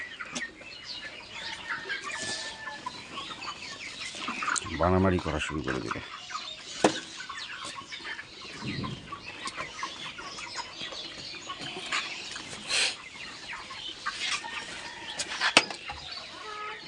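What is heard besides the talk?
chickens clucking at fermented feed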